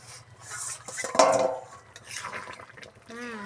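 A lid clatters against a cooking pot of chicken curry with potatoes, sharp metallic knocks and scrapes amid faint bubbling, with a brief voice near the end.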